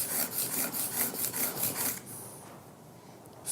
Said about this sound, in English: Now we'll go to the medium stone here. Put the burr back on.